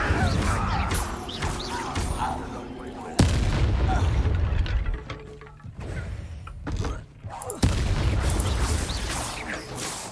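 Fire spell blasts in the Hogwarts Legacy video game: loud, dense booming bursts and crashes that repeat through the combat, with sharp hits around the middle and a continuous roar of effects.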